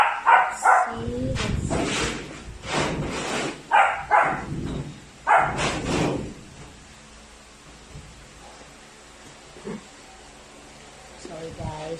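Puppy barking in bursts of sharp, high yaps, close and fairly loud, then trailing off into quiet, with a person speaking briefly.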